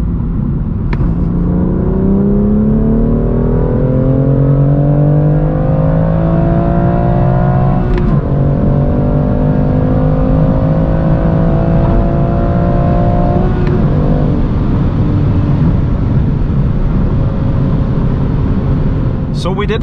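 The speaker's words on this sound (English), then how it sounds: "Let's now see how fast the M2 CS goes from 100 to 200." A 450 hp BMW M2 CS pulls hard from 100 to 200 km/h, its engine note climbing steadily in loud, close sweeps broken by quick gear shifts around eight and thirteen seconds, then settling into a sustained high-speed roar.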